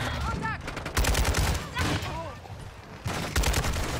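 An RPK light machine gun fires in a video game with loud, rapid bursts that come in repeated volleys. Brief vocal sounds are mixed into the gunfire.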